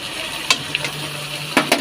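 Salt, chili powder and turmeric frying in a pan while being stirred, a soft steady sizzle broken by a few brief scraping clinks of the spatula against the pan.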